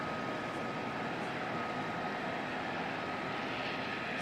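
A jet taxiing at Auckland Airport, heard from a distance as a steady, even engine roar and hum that holds level throughout with no voices.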